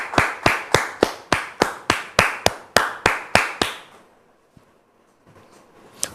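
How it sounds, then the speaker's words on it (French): An audience welcomes Dame Gisèle with about a dozen sharp claps in an even, quick rhythm. The claps then stop abruptly, leaving near-silence with a faint rustle at the end. "Merci de recevoir Dame Gisèle sous vos applaudissements."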